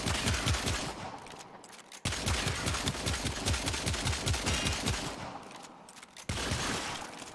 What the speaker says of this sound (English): we're just going to fire the Lato as fast as I can and see how fast I can actually kill him